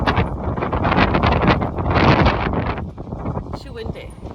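Strong wind gusting across a farmyard, a loud, continuous rushing roar buffeting the microphone close up, easing slightly toward the end.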